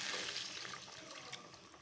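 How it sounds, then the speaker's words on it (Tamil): Running water splashes steadily into a mixer-grinder jar used for grinding tomatoes, a continuous rinsing rush with no voices. "நான் வந்து தக்காளி அரைச்ச மிக்ஸி ஜாரை கழுவி சேர்த்துக்கிறேன்."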